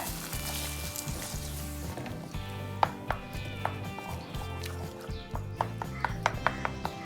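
Water poured over an idli masala mixture simmers and sizzles in a pan on the stove, a steady close hiss with a few light clinks of a spoon against the pan and a faint tonal hum beneath.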